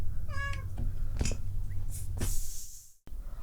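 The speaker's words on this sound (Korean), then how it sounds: "야, 고양이! 조용히 안 놀아!" A cat meows once with a clear, rising-falling cry, followed by shuffling and short scuffling noises, close to the microphone, before an abrupt cut.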